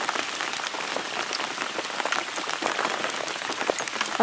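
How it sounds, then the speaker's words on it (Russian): Rain falls steadily and loudly during a fishing trip, a dense close patter of drops hitting the surface throughout. "Ого! Вот этот дождь!"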